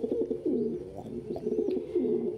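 Pigeons coo in repeated, rolling calls close by, several overlapping phrases in quick succession, with no talking.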